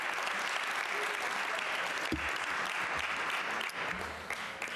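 Sustained audience applause at a book signing and benefit event, following a student's book report, steady and dense throughout with a slight fade near the end.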